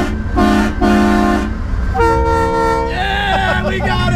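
Two long, loud blasts from a train horn fitted to a Duramax pickup truck, then more horn chords that bend in pitch, all over a steady rumble.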